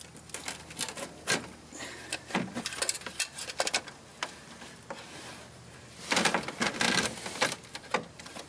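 Big channel locks clamping and twisting a stuck fuel filter free on a 2007 Ford Focus SE, with close, scattered metallic clicks, taps and scraping knocks, louder and denser near the end.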